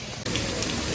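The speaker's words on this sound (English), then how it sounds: "the rain's not letting up" Steady rain falls on a wet outdoor location on a dark December evening, a dense continuous hiss that briefly dips before resuming at full, close-up strength.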